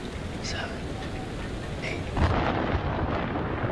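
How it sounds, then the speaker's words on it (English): Thunder during a storm in Man of Medan: a low rolling rumble that swells about two seconds in, set against steady rain hiss, with voices talking over it. "you're counting thunder"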